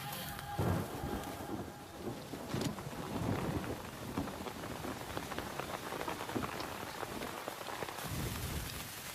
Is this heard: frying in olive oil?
no